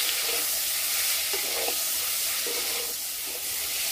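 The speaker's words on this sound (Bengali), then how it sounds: "ডিম একটু হালকা ভাজে নিন।" Eggs fry lightly in a pan of oil, a steady even sizzle close by with a few faint stirring touches and no talk.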